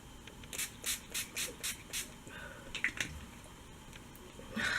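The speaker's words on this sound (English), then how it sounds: "So I'm going to use my NYX setting spray, and it's a dewy finish." Several quick spritzes from a spray bottle come in a rhythmic series, each a short soft hiss, followed by a few fainter sprays. No voices.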